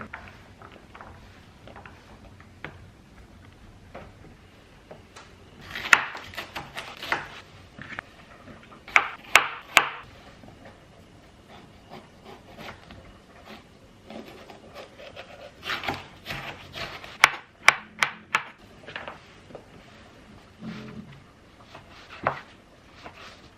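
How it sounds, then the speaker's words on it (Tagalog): Knife chopping menudo ingredients on a wooden cutting board, small irregular bursts of dull wooden taps and scraping in clusters, close and moderately loud against a quiet room with no talking. "Liitan ko lang yung hiwa ng mga ingredients para char-char ba."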